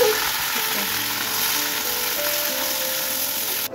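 Vegetables sizzle in hot oil in a kadai, a steady close-up frying hiss that holds unbroken and ends with a brief clatter.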